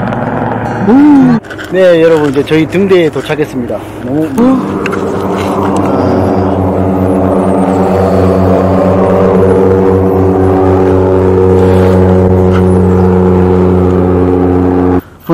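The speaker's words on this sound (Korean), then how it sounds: "헬기가 착륙하고 있습니다." A helicopter lands near a lighthouse in Victoria, Canada, a loud, steady engine and rotor drone building and holding after a brief stretch of someone talking nearby.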